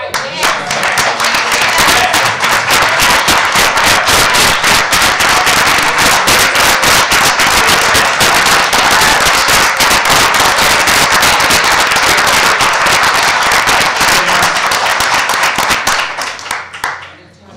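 Rapid, dense crackle of firecrackers or fireworks popping continuously for about sixteen seconds, loud and close, with possible voices mixed in before it cuts off abruptly.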